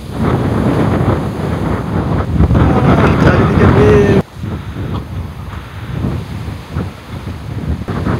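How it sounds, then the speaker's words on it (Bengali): A strong wind sweeps a hilltop above the Karnaphuli river as a Kalbaishakhi storm approaches. It makes a loud, gusty roar that buffets the microphone and eases slightly midway, with a voice briefly speaking over it. "ঝড় আসছে, কালবৈশাখী ঝড়।"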